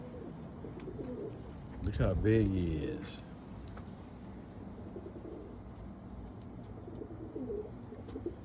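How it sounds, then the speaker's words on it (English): A large roller pigeon coos nearby in a short burst, with someone talking over and around it. "This is my biggest bird."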